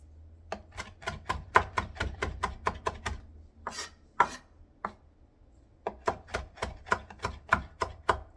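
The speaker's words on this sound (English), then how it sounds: "You just keep chopping until you don't see any more big pieces like this one." A knife chops food on a cutting board in a fast run of crisp, evenly spaced thuds close by, then pauses with a few scraping sounds before the rapid chopping resumes.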